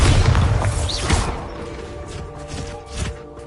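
A Bombarda spell explosion in Hogwarts Legacy, a loud booming blast at the start that rumbles and fades, followed by a few smaller thuds and crackles.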